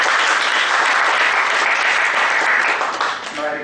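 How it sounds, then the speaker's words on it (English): An audience at a professional talk gives the speaker a round of applause, dense and steady clapping that holds evenly before starting to thin out near the end. "Let us thank the speaker for his valuable time and knowledge sharing with a round of applause."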